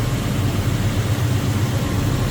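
A 1971 Chevrolet Monte Carlo with headers runs at a steady idle, producing a smooth, continuous low rumble with no change in pace and no talking.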